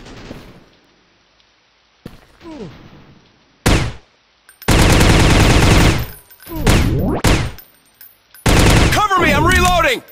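Bursts of gunfire from a shooter video game come in sharp, loud volleys separated by brief pauses, with rapid automatic fire and sweeping tonal effects between shots.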